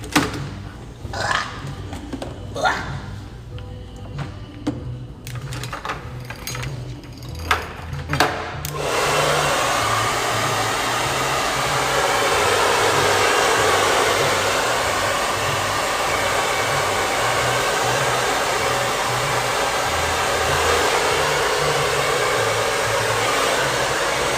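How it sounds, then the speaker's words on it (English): A hair dryer blow-drying hair starts after some handling clicks and taps, then roars loudly and steadily without a break for the rest of the clip. "Let me talk about this blow dry."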